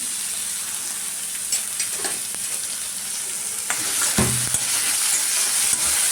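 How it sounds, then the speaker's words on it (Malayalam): Garlic and other ingredients for a moong dal curry sauté in a hot pan with a loud, bright sizzle and scraping stir strokes that grow busier toward the end. "കുറച്ച് വെളുത്തുള്ളി ഇതെല്ലാം കൂടി നല്ലതായിട്ട് വഴറ്റിയെടുക്കണം."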